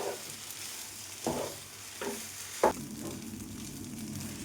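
Mango snack mixture being stirred in a pan, a faint steady frying hiss with a few louder scraping strokes of the spoon, close by.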